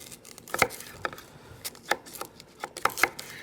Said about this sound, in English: make sure that we cut our sweet potato